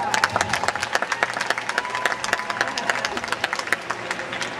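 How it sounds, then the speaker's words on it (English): Audience applause at an eco fashion show for the producer, a dense crowd of claps with some cheering, steady and fairly loud throughout, with a faint tone beneath. "Let's give a nice big round of applause to Ms."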